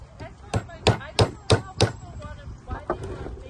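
Hammer strikes driving nails into wood while building a bluebird house, a run of five sharp evenly spaced blows followed by a few softer taps, close and loud.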